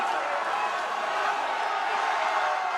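A packed arena crowd at the 2019 World's Strongest Man grand final roars steadily during the atlas stones event, cheering a competitor named Caron through a heavy fifth stone in one loud, continuous wall of noise.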